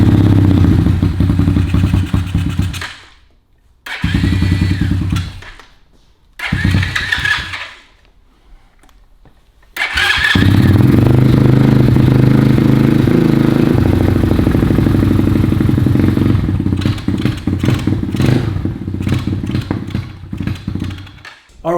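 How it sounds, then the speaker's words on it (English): A Buscadero mini bike engine running lean from a carburetor condition at low elevation, loud and close, surging then cutting out repeatedly before settling into a rough, uneven idle with irregular sputters. "if your bike's running like that, it's not a big deal. It's very simply a lean carburetor condition"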